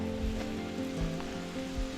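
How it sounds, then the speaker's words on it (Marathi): Rain falling steadily in a forest around a remote house, a continuous soft hiss of drops with a few faint low thumps underneath. "पाऊस आलाय"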